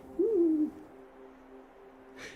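A great grey owl in a deep-snow winter setting gives a single low, clear hoot lasting about half a second, with a soft, faint sound trailing after it.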